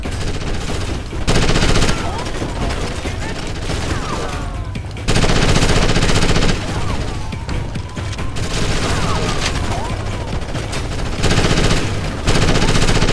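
Sustained machine gun bursts and gunfire from the video game Ghost Recon Advanced Warfighter fill the clip loudly, broken by brief pauses between volleys, with radio chatter and game voices mixed in underneath.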